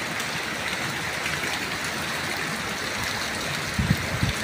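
Heavy rain from Typhoon Kristine pours down while floodwater rushes out of an overflowing drain in a flooded parking area, making a loud, constant roar with a few louder splashes near the end.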